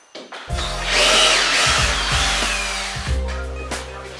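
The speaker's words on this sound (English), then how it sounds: "We're gonna pull those screws." A power drill backs screws out of a basement subway tile storage build, a loud close whirring burst that revs up, drops, and restarts in short pulses.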